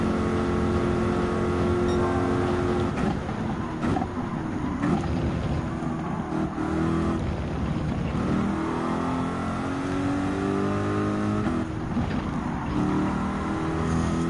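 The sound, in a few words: race car engine revving in Gran Turismo 7 video game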